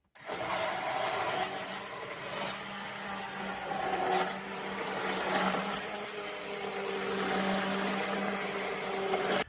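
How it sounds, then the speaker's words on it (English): An immersion blender purées soup until silky smooth at a camp cooking setup, giving a steady, loud motor whir that runs continuously for about nine seconds with slight shifts in pitch and load. "you are going to blend this up until it's silky smooth"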